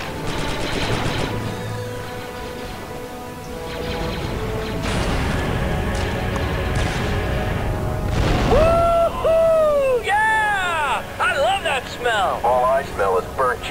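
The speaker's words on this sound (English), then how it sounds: "3-8, my scanners show an explosion." Explosion in a Star Wars audio drama, set amid a Geonosian droid and fighter scene: a broad rumbling burst rises over layered sci-fi effects and music, with swooping electronic tones and what sounds like voices around it.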